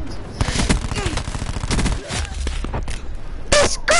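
Loud, dense gunfire from the Call of Duty Black Ops 4 video game, a continuous barrage of rapid shots with short pauses and a fresh burst near the end, close and dominant.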